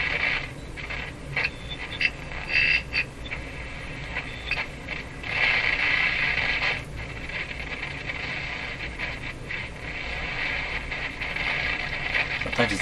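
A Canadian Westinghouse 981 shortwave radio is tuned through band noise, giving hissy static with crackles, clicks and brief whistling bursts that shift as the dial moves, moderately loud and without talk.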